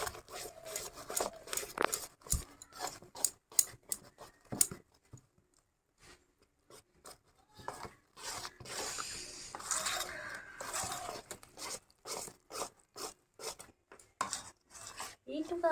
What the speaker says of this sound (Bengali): এইবার আমাদের ফাটানোটা চলছে